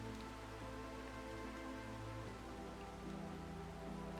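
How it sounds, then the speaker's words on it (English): Steady, soft video game rain hiss with faint patter, continuous and even, no voices. "Will it stop raining?"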